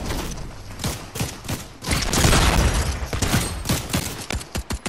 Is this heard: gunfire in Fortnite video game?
yes